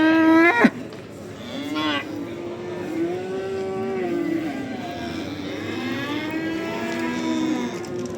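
Young calves at a cattle market in Barda moo loudly and close by, in one long drawn-out call followed by further lowing over a faint background murmur.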